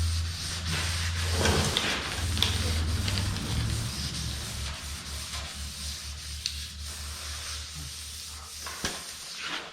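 Wet sanding on a car's paint with 400-grit paper after a 320 dry pass: a steady, close rasping rub that runs continuously with slight surges in the stroke, and no one speaks.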